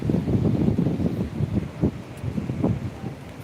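Steady wind in Tel Aviv buffets the microphone with low, rumbling gusts that rise and fall throughout, with no voices.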